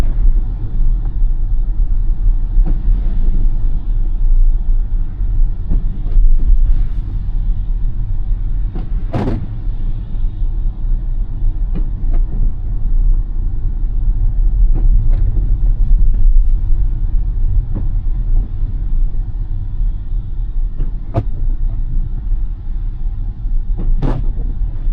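Tesla car under Full Self-Driving Supervised v13.2.8 travelling a street past an industrial area near the Staten Island Ferry Terminal, heard as a steady low road rumble with occasional faint clicks and bumps, no talking.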